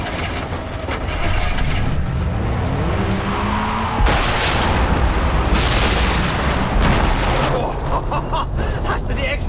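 A booming explosion in the shooter Far Cry 3, a broad roaring blast that swells over a rumbling vehicle engine and lingers for several seconds, loud and close, with voices talking over the din.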